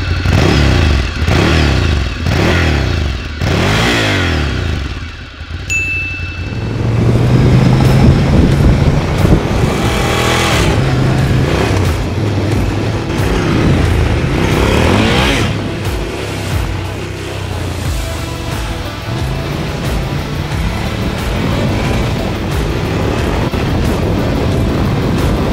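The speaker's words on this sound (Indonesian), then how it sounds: "kita dengerin dulu suara mesin dari Ducati Scrambler Desert Sled ini" A Ducati Scrambler Desert Sled motorcycle engine starts and revs hard in a series of loud, close throttle blips, then holds a rough, throbbing idle with occasional further revs.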